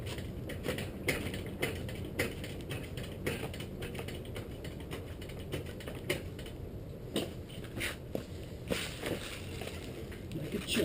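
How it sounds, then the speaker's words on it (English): A motorcycle is jacked up and its tire rolled forward, making a steady run of close, rapid mechanical clicks and rattles like a ratcheting jack under a constant low background rumble. "I'm going to try to fix it by jacking the bike up a little more and then rolling the tire forward"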